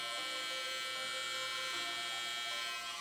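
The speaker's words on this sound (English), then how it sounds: "I'm gonna take my trimmer and very lightly" An electric hair trimmer buzzes close and steady during a self-cut taper haircut. The high whine holds without a break for a few seconds, with no voices.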